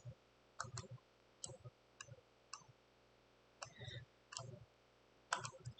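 Computer mouse clicks in a quiet room, arriving as short crisp pairs and single clicks spread irregularly at close range.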